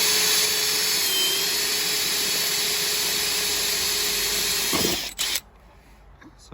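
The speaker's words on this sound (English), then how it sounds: "So I'm drilling that as a pilot hole." A drill with a 3/32 metal bit bores a pilot hole into a panel on a GMC Yukon XL Denali for mounting an LED load resistor. The motor whines loud and steady for about five seconds, then stops abruptly with a brief clatter.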